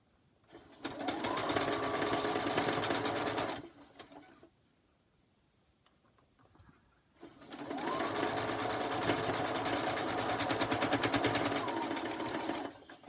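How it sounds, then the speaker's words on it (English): A sewing machine stitches across the edge of a quilt block in two long, steady runs separated by a pause, loud and close with a fast even rattle. "And now I will sew across that edge."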